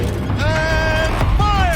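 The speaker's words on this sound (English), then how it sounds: "Rotate turret!" Mechanical creaking and whirring of a rotating gun turret in Horizon Zero Dawn, two drawn-out grinding sweeps with metallic ratcheting, loud and close.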